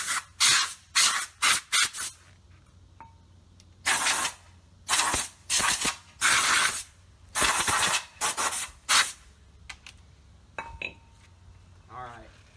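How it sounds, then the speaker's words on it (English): Compressed air hose blasting dust out of golf cart brakes, a series of loud hissing bursts of varying length with short quiet gaps between them, close by, with faint clinks of metal parts in between. "I'm just going to kind of clean this out real quick with my air hose."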